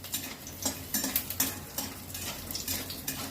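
Dried pea-lentil dumplings (matar dal bori) fry in a pan, a soft sizzle under rhythmic bursts of stirring and light spoon clinks against the metal.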